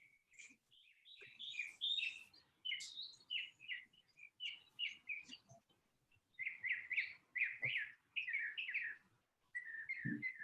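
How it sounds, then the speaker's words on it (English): Ambient birds chirping and whistling in short bursts of varied notes, fairly faint and somewhat distant, with quiet gaps between phrases. "Do y'all like the ambient bird noises in the background?"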